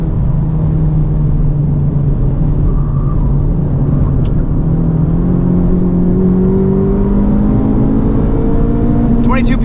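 The engine of an FL5 Honda Civic Type R revs on track. A loud, close, droning tone climbs steadily in pitch as it pulls through the revs, with road and wind roar underneath.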